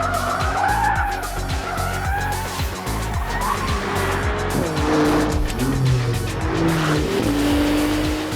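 A Maserati MC20 supercar with a 620 horsepower engine drifts with its rear stepping out, its tyres squealing in rising wails over a loud, continuous engine roar.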